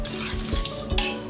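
Onions sizzling in hot oil in a pan for a Vidarbha-style thin poha chivda, with a spoon stirring and scraping against the metal, close and steady with light clinks.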